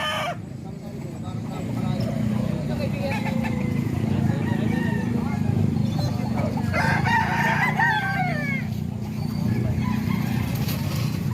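Roosters crow repeatedly at a market where chicken sellers trade fowl, the loud calls rising over a steady crowd murmur and clucking, with people talking nearby.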